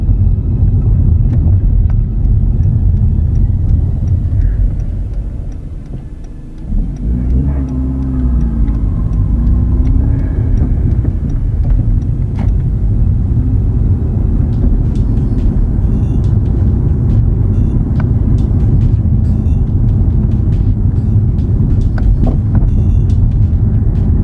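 A Hyundai Genesis Coupe with a stiff ride travels over a bumpy road, producing a steady loud cabin rumble and road drone with faint scattered ticks and rattles and a brief dip in noise partway through.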